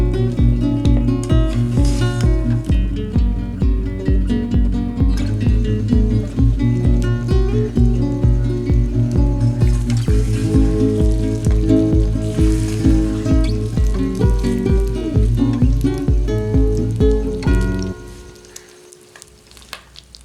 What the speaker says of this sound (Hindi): बीफ को हम अच्छे से फ्राई करेंगे।